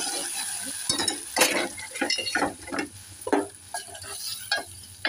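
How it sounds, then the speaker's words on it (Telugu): A fried tempering is stirred into cooked dal in a home kitchen, a spoon scraping and sloshing through the thick lentils in repeated strokes, with a soft sizzle beneath and no voices. "పోపు బాగా ఫ్రై అయిపోయిందండి"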